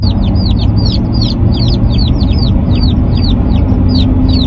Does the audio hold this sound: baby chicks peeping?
yes